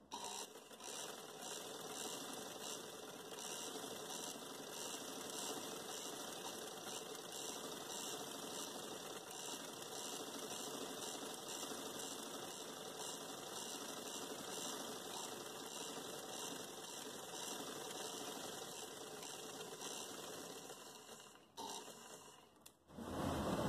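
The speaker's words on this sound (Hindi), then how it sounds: "अब मैं यहाँ से लूँगी सिलाई।" A sewing machine stitches lace along a gharara trouser, running in one long continuous mechanical whir that stops abruptly near the end.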